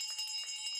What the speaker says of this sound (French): Cette cloche qui retentit ici marque la première cotation de l'emprunt obligataire du Trésor public du Burkina Faso